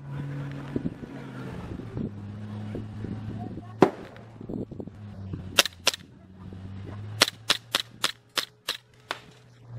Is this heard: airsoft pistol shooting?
yes